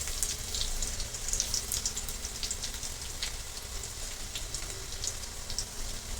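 Garlic frying in oil for a soybean dish, giving a continuous fine crackling sizzle throughout at a moderate, steady level with no talking.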